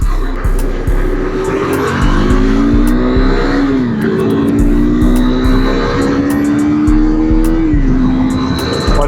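A KTM RC390 motorcycle pulls hard under acceleration, its engine note climbing steadily through gear changes, loud and close with heavy wind rush over a rapid low pulsing.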